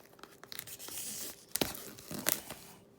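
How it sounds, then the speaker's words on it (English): Plastic wrap being torn off a Walking Dead Season 11 Blu-ray collector's set, close crinkling and rustling with several sharp ripping bursts; no voices. "So I'm going to take the plastic off of this one."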